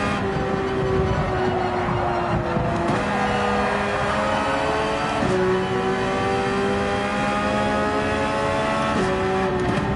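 A Gran Turismo 7 race car engine holds a loud, steady drone under throttle, with the pitch dropping sharply at each gear change and then climbing again, and no talk over it.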